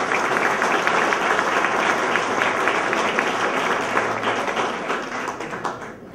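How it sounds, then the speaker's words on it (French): Audience applause for members of a selection committee at an awards ceremony, a steady, dense wash of many hands clapping that carries on for several seconds and tapers off slightly at the end. "Alors, on peut les applaudir"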